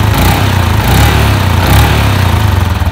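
A Yamaha Exciter 135 motorcycle engine idles close up, a loud, steady, even putter with a fast rhythmic pulse throughout and no talk over it.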